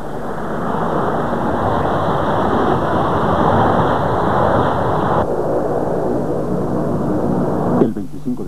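Dassault Super Etendard jet aircraft flying: a loud, continuous broadband jet roar that holds steady, then drops in level partway through, with a brief transient near the end and no talk.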